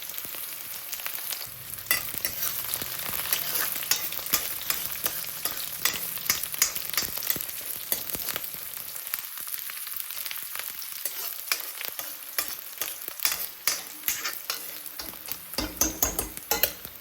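Onion and green chillies fry with cumin in a pan over low gas, giving a steady close sizzle broken by frequent spoon stirs and scrapes against the pan.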